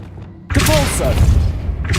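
A Depulso spell goes off in the video game Hogwarts Legacy as a sudden heavy boom that swells into a rumbling, whooshing burst. Voice-like tones sound within the blast.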